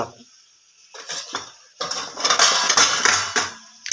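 A metal lid clatters onto a pan of home-style Marathi chicken masala cooking on a low flame, giving a few brief clinks followed by a louder, sustained rattle and scrape of metal on metal.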